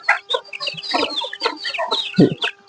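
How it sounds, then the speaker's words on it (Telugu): Native country chickens, hens and roosters raised by tribal keepers in Rampachodavaram, cluck and call in a lively close-up cluster of short, overlapping squawks and clucks. "మేము ఈ విధంగా పిలుస్తాము కోళ్ళని"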